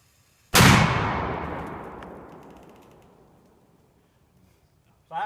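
A single loud airsoft cannon blast with a sharp, sudden onset, followed by a long rumbling decay that fades over several seconds, and a voice begins just at the end.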